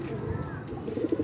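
Pigeons at a home breeder's loft give low, soft coos toward the end of a short stretch, faint and close with light background noise.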